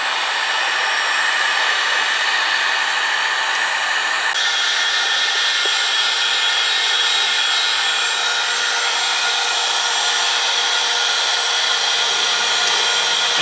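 A heat gun blows steadily and loudly for the whole stretch while heat-shrink tubing is shrunk over soldered wires during a kitchen pendant light and ceiling fan install, a continuous airy roar with a slight shift in tone partway through.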